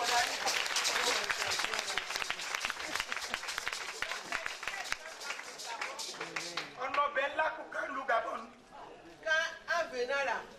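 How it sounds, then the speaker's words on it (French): Audience at a women's conference in Togo breaks into lively clapping for several seconds, tapering into scattered claps mixed with chatter and a voice speaking over the crowd. "Applaudissez."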